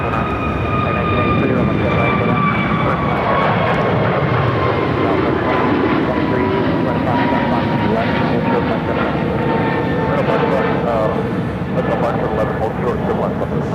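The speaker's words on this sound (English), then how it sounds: "This American Airlines Airbus A321 is headed to Miami." An American Airlines Airbus A321 jet passes near Phoenix Sky Harbor airport with a loud, steady engine roar and high whining tones that slowly fall in pitch. A voice can be heard faintly under the roar.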